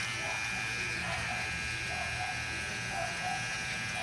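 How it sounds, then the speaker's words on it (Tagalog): A VGR V-600 electric shaver buzzes steadily and continuously at close range while shaving several days of stubble, with a constant motor drone and faint rasping as it works across the hair. "So, mag-ahit tayo."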